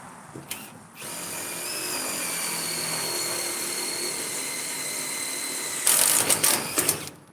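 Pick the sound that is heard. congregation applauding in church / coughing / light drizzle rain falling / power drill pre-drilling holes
power drill pre-drilling holes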